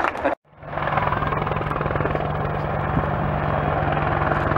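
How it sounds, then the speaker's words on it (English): An attack helicopter's rotor thumps loud and steady overhead during an air show display at Waddington, after a brief silent gap at the start, its engine whine filling the air. "the 2014 attack helicopter display"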